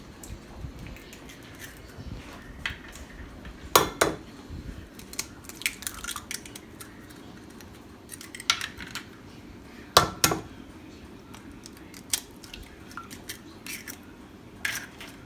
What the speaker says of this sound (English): So I'm gonna put the eggs in here.